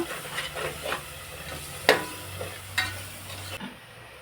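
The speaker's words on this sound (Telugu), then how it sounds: "బాగా ఫ్రై చేసుకోవాలి అంతా" Chicken feet masala frying with chili powder in a pan, a continuous close sizzle under scraping stirs and a few sharp metallic knocks of a spatula, ending abruptly after about three and a half seconds.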